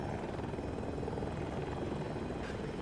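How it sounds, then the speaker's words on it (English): A helicopter flies in Battlefield 2042 during bad weather, its rotor a steady, even thrum that holds at a constant level throughout, with no speech over it. "There's a helicopter somewhere in here, but I just can't spot him because of the weather."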